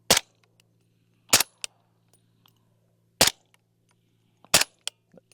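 Four sharp suppressed rifle shots from a Q Honey Badger fired into dirt, each a loud crack with a short tail, spaced unevenly across the stretch with faint clicks between, no talking.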